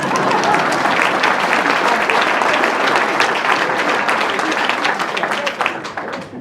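An audience at a town hall New Year's greetings ceremony in Villeneuve-le-Roi bursts into loud, dense applause that holds steady for several seconds, then thins and tapers toward the end.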